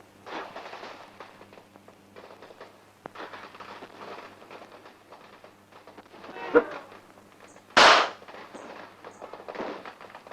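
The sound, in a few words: firecracker exploding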